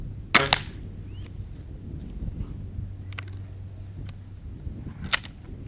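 Barrel of an Air Arms ProSport .22 break-barrel air rifle being closed, giving a single sharp padded thud followed by a few quieter clicks and knocks in an otherwise quiet room.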